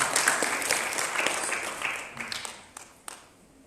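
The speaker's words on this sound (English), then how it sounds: "Another big round of applause." Audience applause at a Customer Service Week convention in Botswana: a fairly faint, steady wash of many hands clapping that fades toward the end, with a few louder individual claps near the close.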